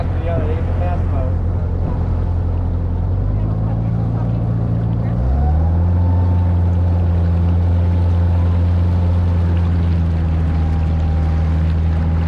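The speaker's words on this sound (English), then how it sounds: "That's how they transport their employees from one dock to the other. They get the fast boat." A powerful boat engine drones loudly and steadily, its pitch rising as it speeds up, with rushing water and wind beneath.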